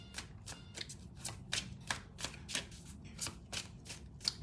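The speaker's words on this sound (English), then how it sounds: "Let's do a shuffle." Tarot cards are shuffled in a quick series of crisp riffling snaps, close and fairly soft, repeating at a steady rhythm.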